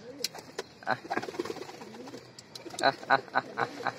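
A male Giribaz pigeon coos close by in short, repeated throaty phrases mixed with soft clicks and rustles, faint and irregular.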